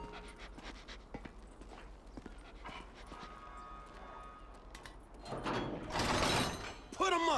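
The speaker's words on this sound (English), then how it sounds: "You got a whiff of him, Chop?" A dog in the video game GTA V pants and sniffs, with faint panting under game ambience and a louder burst of breathy snuffling near the end, followed by a short whimper.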